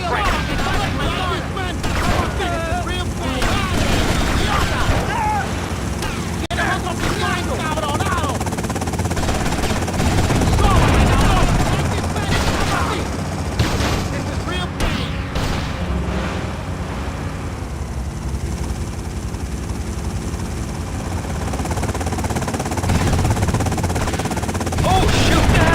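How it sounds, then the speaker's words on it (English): Helicopter rotor and bursts of gunfire in Grand Theft Auto Vice City, a steady loud mix of rotor drone and rapid shots running continuously with game voices talking over it. "Oh my God, they've got a helicopter!"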